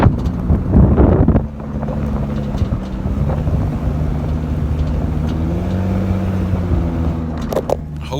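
Engine and upgraded exhaust of a Lexus IS300 cruising steadily at about 1500 RPM, a low continuous drone that stays fairly loud, with heavy wind buffeting over the microphone from an open window.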